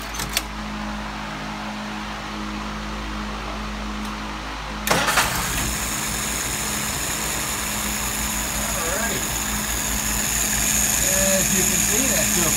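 A vehicle engine in a warm restart and stumble test: quiet low idle hum, then a sharp crank and start near the five-second mark settling into a steady running drone that builds slightly toward the end.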